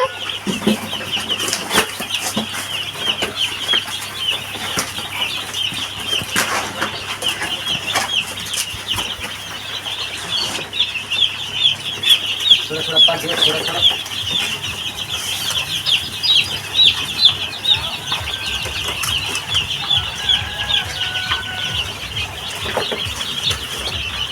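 Chickens and chicks on a Nepali poultry farm during a work shift cluck and cheep steadily in a dense, continuous flock chorus, with occasional wing flapping rising over the crowded background din.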